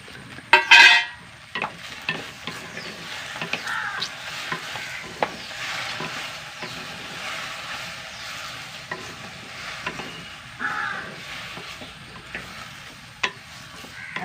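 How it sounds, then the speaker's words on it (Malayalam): Okra fries and sizzles in a pan while a spoon stirs and scrapes it now and then, with occasional clacks against the pan. "വറുക്കട്ടെ വറുക്കട്ടെ വെണ്ടയ്ക്ക"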